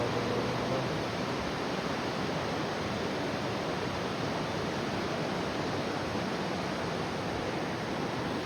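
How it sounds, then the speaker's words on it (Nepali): A river flows past in a steady, unbroken rush of water, loud and fairly close, with no pauses and no voices. "खोला यसरी बग्दो रहेछ।"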